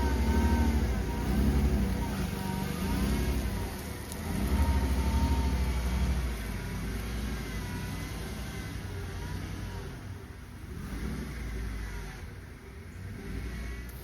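A 1995 Ford F150 pickup pulls out, its mid-pitched engine revving up and settling into a steady drive, fairly close and alone with no talk.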